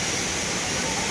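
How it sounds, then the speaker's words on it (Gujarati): Water pours from a waterfall above the trail near Gaurikund on the Kedarnath trek, a steady, loud, unbroken broadband rush that holds constant throughout with no voices over it. "વોટરફોલ ચાલુ છે ઉપરથી."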